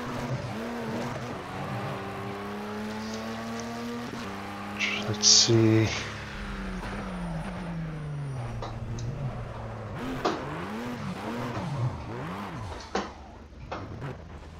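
Audi race car engine in Project Cars revving and surging through rising and falling pitch sweeps, heard from outside the car, with a brief sharp crash midway and a voice talking over it.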